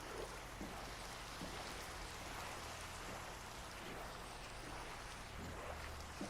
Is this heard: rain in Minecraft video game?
yes